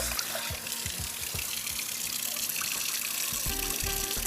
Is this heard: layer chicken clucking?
no